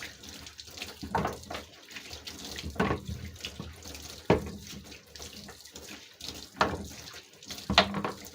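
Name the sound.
rinsing under running tap water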